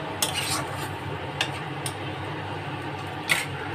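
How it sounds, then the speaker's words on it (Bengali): Taro curry with whole cumin and a bay leaf goes into hot oil left over from frying prawns, giving a steady close hiss broken by a few sharp utensil clinks against the pan. "চিংড়ি মাছটা ভেজে তুলে নিচ্ছি, ওই তেলের মধ্যেই বসিয়ে দিচ্ছি তরকারিটা"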